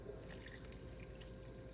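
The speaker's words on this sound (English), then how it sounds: "And now we're gonna add in some of that reserved pasta water." Reserved starchy pasta water poured into a pan of sauce with roasted red bell peppers for lemon tortellini, a quiet steady trickle and drip running alone throughout.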